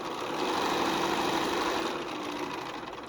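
A sewing machine stitches fabric in a steady, dense mechanical whir that holds at an even level throughout, close by and continuous.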